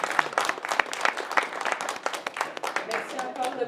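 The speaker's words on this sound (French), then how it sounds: "je voudrais juste qu'on l'applaudisse une dernière fois" An audience applauds a guest speaker at an event, steady crowd clapping of moderate loudness with individual claps standing out, faint voices mixed in beneath.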